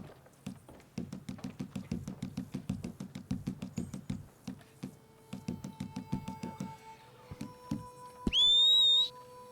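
In Red Dead Redemption 2 Online, rhythmic hoof-like knocking gives way to a few tones, then a loud, shrill rising whistle for a horse blasts for about a second near the end.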